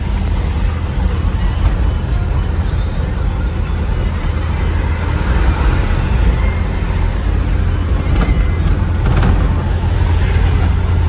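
Steady roar of passing cars and heavy vehicles on the Mumbai–Goa highway in the Konkan near Karnala bird sanctuary, a continuous loud road rumble with brief brighter swells as vehicles go by.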